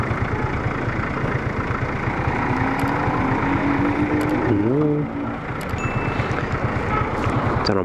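A motor scooter engine idles and runs steadily up close during a food delivery shift, with a continuous low drone and busy street noise around it.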